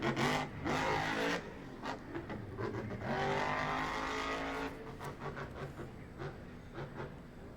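Monster truck engine roaring at a Monster Jam event at Atlanta Motor Speedway, a loud sustained rumble that rises and falls over the whole stretch, heard from the stands at some distance.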